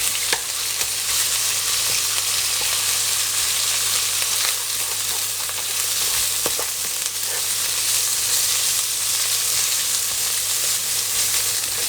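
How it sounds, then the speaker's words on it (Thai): Minced pork stir-fried in a pan for a Chinese cabbage and tofu dish gives a steady, loud sizzle throughout, broken by occasional scraping clicks of the spatula, with no talking. "ก็ผัดจนหมูสุกเลยฮะ"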